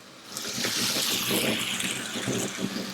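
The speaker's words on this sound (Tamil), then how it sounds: "கொஞ்சமாக தண்ணி ஊற்றிக்கலாம்" Water poured into a pan of mushroom gravy while cooking, a continuous rushing pour that runs steadily and fairly loud for nearly three seconds with no voices over it.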